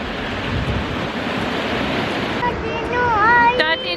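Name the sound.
sea waves on the beach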